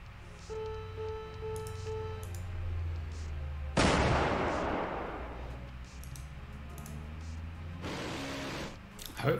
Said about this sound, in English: So they're engaging with guns now.